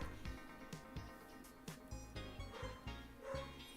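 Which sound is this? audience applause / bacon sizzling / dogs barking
dogs barking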